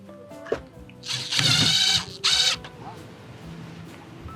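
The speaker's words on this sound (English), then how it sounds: "Drill, okay." A power drill drives screws into a solar panel mount on a motorhome, in two close bursts of whirring, the first longer than the second, with quiet clatter between and no talking.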